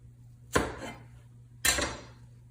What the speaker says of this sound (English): they can use a paring knife, a much smaller knife, in order to cut off the rind